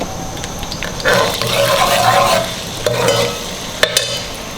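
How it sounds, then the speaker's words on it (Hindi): Onions fry in a cup of oil as the base for camel meat harissa, sizzling close and loud with bursts of stirring and scraping against the pot and a sharp clink near the end. "प्याज को गोल्डन करना थोड़ा।"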